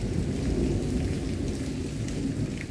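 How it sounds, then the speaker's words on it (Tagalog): Steady heavy rain pours down with a deep, continuous rumble of thunder rolling underneath, loud and close, with no voices. "Dumadalugtog siya guys"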